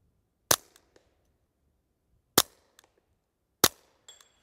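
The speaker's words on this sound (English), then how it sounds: "third shot, 100 yards, Tx22 Compact" Three sharp .22LR shots from a Taurus TX22 Compact pistol fired at a steel plate 100 yards away, each a loud crack with a faint delayed ping, spaced irregularly over a quiet outdoor range.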